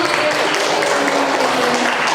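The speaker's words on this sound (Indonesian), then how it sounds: "tepuk tangan dulu dong" A classroom audience applauds in a dense, continuous patter of hand clapping that holds steady for a couple of seconds.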